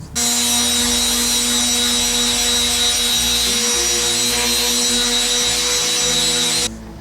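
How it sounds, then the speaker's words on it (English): Steady, continuous power-sander whir with a constant high whine, sanding wood with 80-grit sandpaper, loud and close, running without pause until it cuts off near the end. "Use 80 grit sandpaper just to get the rough edges out"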